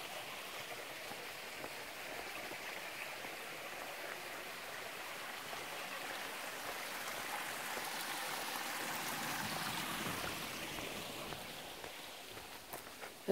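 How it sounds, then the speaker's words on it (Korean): A stream runs beside a mountain walking path down to a field, its steady soft rush of water faint and continuous throughout, with no voices. "가다 보면 물소리도 들리고요"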